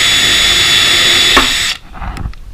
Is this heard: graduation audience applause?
no